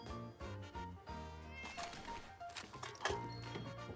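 A cat meows in the Fallout 76 video game, a few drawn-out calls mixed with game music and clatter, fairly close and moderately loud with no speech.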